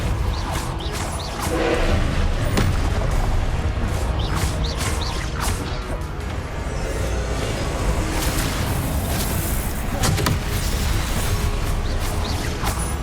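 Confringo and Depulso spells cast in Hogwarts Legacy combat, a loud continuous barrage of whooshing casts, crashes and booming impacts repeating throughout, with brief swishes standing out above the dense battle noise.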